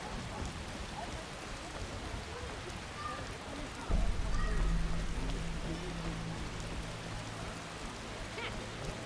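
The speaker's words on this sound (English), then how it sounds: "Oh, when will this rain stop?" Steady rain falls in The Witcher video game, a dense hiss of drops spread evenly throughout, with a low rumble swelling in midway like distant thunder or wind beneath it.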